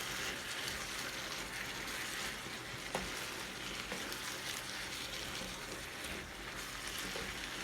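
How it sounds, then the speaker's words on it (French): A chicken, carrot and vegetable mixture for pastilla cooks in a pan under steady stirring, giving a constant close sizzle with soft wet scraping and an occasional knock, no speech. "Je mélange le tout et je laisse cuire."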